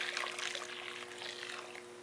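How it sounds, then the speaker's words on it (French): Hot water poured from a container into a mixing bowl of dry ingredients, a steady close splashing pour that runs for about two seconds without talk. "Ensuite, on va ajouter 750 ml d'eau bien chaude."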